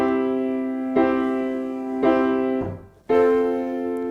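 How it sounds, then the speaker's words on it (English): Piano chords are played one after another with the sustain pedal pressed too early, so each chord rings on into the next one. There are four sustained, blurred chords at about one-second intervals, with a brief dip in sound before the last chord. "let me show you what it sounds like if you're pedaling too early"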